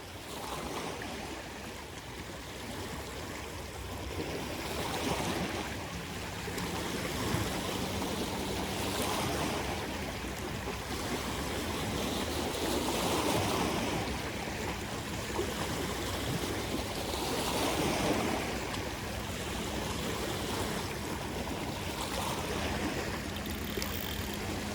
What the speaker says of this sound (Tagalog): Pasensya na kayo, may dumaan na barko. Ferry.